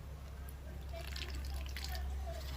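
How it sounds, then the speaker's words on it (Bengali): Water is poured into cornflour with a little salt to mix a batter for fish chops, giving a few soft dripping, trickling sounds over a low background hum. "কর্নফ্লাওয়ারের মধ্যে একটু লবণ একদম অল্প আর একটু জল দেব এটাকে গোলার জন্য"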